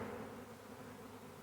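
A honey bee swarm with three queens hums in a dense, continuous, faint buzz, steady throughout the short stretch with no other sounds.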